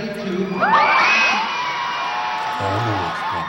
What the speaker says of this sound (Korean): 관중도 아낌없는 기립박수를 보냈습니다